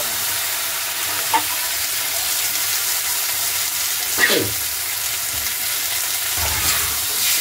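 Green peas stir-fry in a spice paste, a constant loud sizzle broken by a few scraping stirs of the spoon against the pan.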